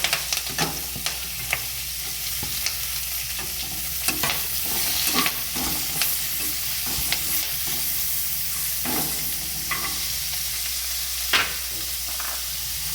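Curry leaves and vegetables fry in a pan, a continuous loud sizzle with frequent scraping and clinking of a spatula stirring, close and without talk.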